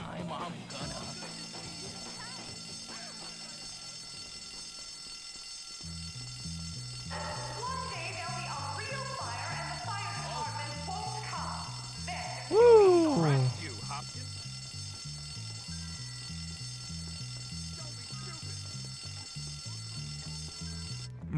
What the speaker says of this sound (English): Pull the fire alarm quick.